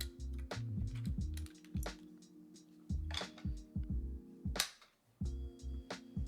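Keystrokes on a custom mechanical keyboard from an NRDesignco Kaze prototype build with GMK keycaps, coming in quick bursts of clacky taps with short pauses between runs, close and fairly quiet, no talking.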